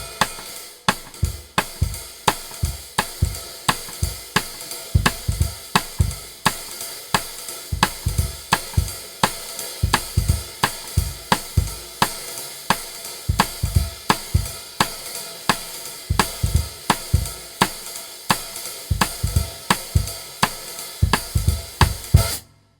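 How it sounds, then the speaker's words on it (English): A jazz drummer plays a sizzling hi-hat pattern, loud, steady and continuous, with crisp cymbal wash and regular kick or low accents in a swinging rhythm, with no talking. "It's the sizzle sound, and it sounds like this."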